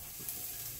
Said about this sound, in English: So I'm gonna just blast this garlic in right now.